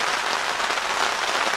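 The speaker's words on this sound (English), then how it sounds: "You can hear the rain falling." Rain patters steadily on a camping tent in the Jersey Pine Barrens, a dense, even hiss of drops close by with no gaps and no voices.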